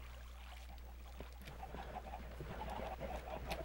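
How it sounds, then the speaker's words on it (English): Chickens clucking in the Minecraft video game, a few soft, short clucks scattered over a low steady hum, fairly faint and growing slightly busier toward the end. "I hear chickens, but I don't see them."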